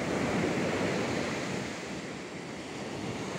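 Sea waves breaking on a sandy shore at the seaside, a continuous loud roar of surf with wind buffeting the microphone, no voices.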